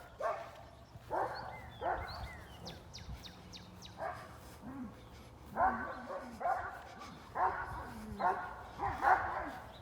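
Several dogs bark and yip repeatedly out across a backyard, sharp bursts coming in uneven clusters at moderate distance, with a few birds chirping faintly in the background.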